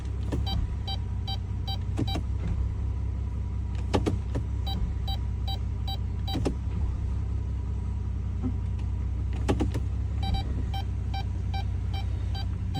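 A running 2011 Chrysler Town and Country 3.6-liter idles with a constant low hum while the shifter moves through the gears. A few sharp clunks and repeating electronic chime beeps sound over the engine, and nobody talks.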